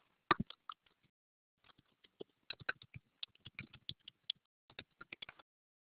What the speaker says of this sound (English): A couple people are typing.